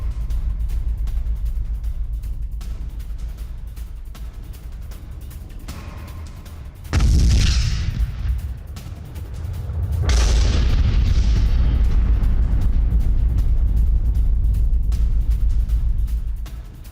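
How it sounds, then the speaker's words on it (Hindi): Heavy booming blasts from RBK-500 cluster bomb strikes hit the Botin area, with a deep low rumble throughout and two big, loud explosions a few seconds apart, the second rolling on into a sustained roar. "क्लस्टर बॉम्ब RBK-500 से कैसी भारी तबाही मची है"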